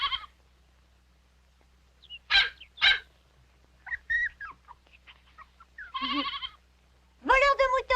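A lamb bleats in several short, high, wavering cries, spaced apart and heard up close against a quiet background.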